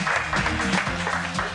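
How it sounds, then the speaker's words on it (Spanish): An audience at an evening fashion event claps for a model, producing a short, fairly loud burst of applause with a voice speaking underneath. "Aplausos para ella, gracias."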